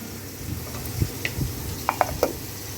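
Fried potatoes lifted from a wok, heard as soft sizzling with a few distinct metallic scrapes and clinks of a utensil against the pan, close and fairly quiet, no voices.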